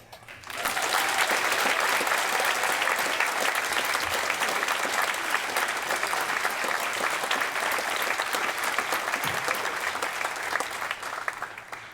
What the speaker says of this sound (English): Let us applaud your families, your friends, and your loved ones